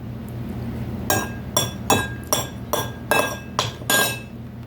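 Glasses clinking together in a series of about eight sharp, bright chinks for a cheers toast at a restaurant, spaced roughly half a second apart over a quiet background.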